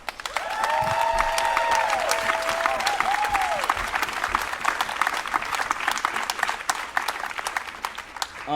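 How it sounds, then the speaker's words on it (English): A crowd at a hip-hop event applauds and cheers steadily throughout, with whoops and whistles rising early, dense clapping filling the room. "Everybody make noise for hip-hop."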